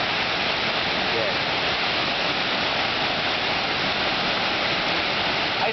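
Waterfall roaring in a steady, dense rush of falling water, loud and continuous throughout with no break or change in intensity.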